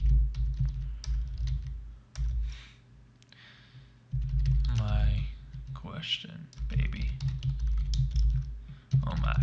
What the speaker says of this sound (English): I'm not even looking at my keyboard, so don't think I don't know how to type.